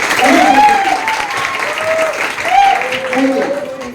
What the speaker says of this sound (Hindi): एक बार शानदार तालियां हो जानी चाहिए